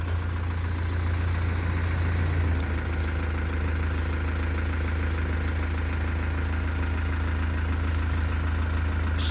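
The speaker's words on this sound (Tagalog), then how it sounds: "binuksan ko na yung makina ng van" A van engine idles while warming up early in the morning at a service stop, a loud, steady low rumble with an even mechanical hum throughout and no talking.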